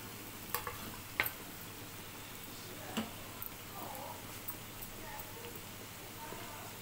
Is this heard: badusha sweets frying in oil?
yes